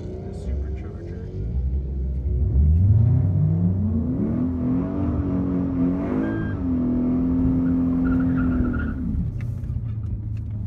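A supercharged Shelby GT500 engine revs up and holds a steady, loud drone before settling, with a voice talking over it.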